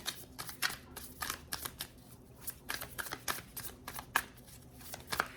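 Close, soft tarot card shuffling, with rapid papery riffles and flicks in a busy, uneven rhythm, quiet and alone without any voices.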